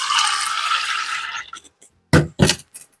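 Kitchen tap water runs steadily into a container to soak something, then stops, followed by a few scattered clinks and two short splashy bursts of handling in the sink.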